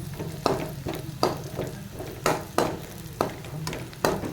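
Ginger garlic paste fries in oil for a rajma curry masala, a constant close sizzle punctuated by regular scraping strokes of a spoon against the pan, roughly every half second, with no talking.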